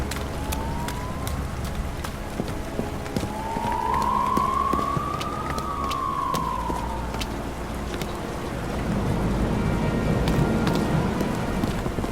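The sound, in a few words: police car siren in the video game Nobody Wants to Die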